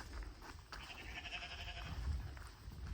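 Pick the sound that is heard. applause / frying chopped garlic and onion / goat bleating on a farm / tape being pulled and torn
goat bleating on a farm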